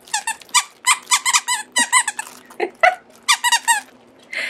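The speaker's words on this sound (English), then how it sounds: "Oh, this has a squeaker too." Plush monkey dog toy with a squeaker, squeezed again and again in quick bursts of high, close squeaks, sometimes in fast runs of several, with brief gaps between.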